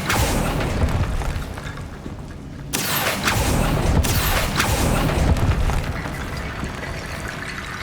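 A fire spell bursts in the video game Hogwarts Legacy, a dense roaring whoosh with rumbling booms that cuts in sharply midway and stays loud and continuous to the end.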